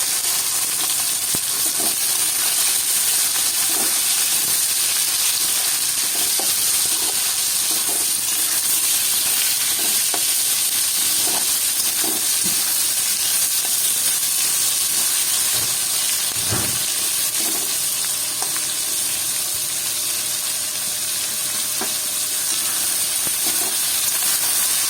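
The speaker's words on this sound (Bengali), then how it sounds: "এরপর এর মধ্যে আমি পেঁয়াজ কুচিগুলো দিয়ে দিলাম" Chopped onions sizzle in hot oil in a pan for a Bengali mutton curry and sweet pulao, a steady close hissing spatter with occasional small pops and clicks throughout.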